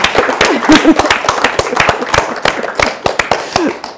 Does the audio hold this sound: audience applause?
yes